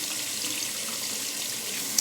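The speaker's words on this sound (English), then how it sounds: "So I'm going to turn the water on so it's getting warm." Warm water runs steadily from a bathroom sink tap, a smooth continuous close splashing stream with a small clink near the end.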